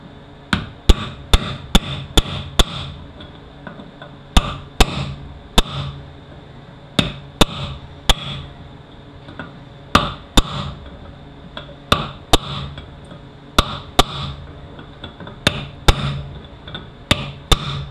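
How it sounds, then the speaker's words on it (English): Sharp metallic hammer blows on a chisel driving out a stuck part of a Chevy 6L80E automatic transmission, irregular clusters of close, ringing strikes with short pauses between groups. "Yep, chisel time."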